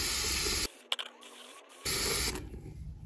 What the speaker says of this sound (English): So just a little spray brake cleaner there.